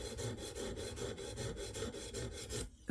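A Knafs Lander 4 knife is drawn over a 600 grit stone on a KME sharpener in quiet, close, rhythmic rasping strokes, about ten in quick succession, then a brief pause.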